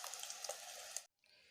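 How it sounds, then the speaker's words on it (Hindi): An egg fries in hot oil in a pan, a faint, close, crackling sizzle with small pops that cuts off suddenly, then resumes softly. "देखिए अंडा मेरा फ्राई हो चुका है।"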